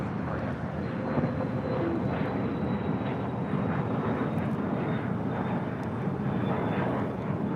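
A Japan Airlines Boeing 787-9 Dreamliner's jet engines roar steadily at LAX airport. The broad, continuous rumble and whoosh holds at a constant level throughout and sounds fairly close, with no clear voices.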